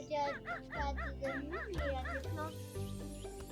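A dog in the farm video game Ranch Farm and Store Simulator gives a quick run of yipping barks and a whimper, with someone talking over it and game music underneath.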